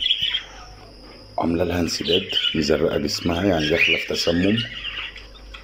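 A sick, egg-bound budgie with a swollen lower belly gives faint, high chirps, mostly at the start, then sits quietly under steady close-up talking.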